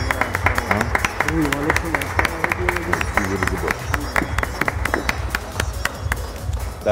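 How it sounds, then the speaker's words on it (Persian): Studio audience at a televised Persian talk show claps steadily through the whole stretch, a dense layer of handclaps with crowd murmur and music-like tones beneath, moderately loud and continuous. "تشویق حضار هم به ما کمک کنه"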